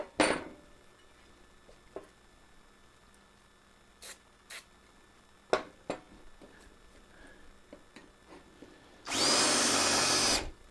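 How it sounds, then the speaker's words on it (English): A power drill bores holes in a truck, a loud sustained whine near the end after scattered clicks and taps of tool handling, close by and without talk. "I drilled the wrong one"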